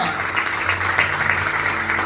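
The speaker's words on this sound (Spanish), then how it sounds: "Ahora sí, dale fuerte ese aplauso al Señor." A church congregation claps steadily through the whole stretch, a dense even wash of applause with a voice running along over it.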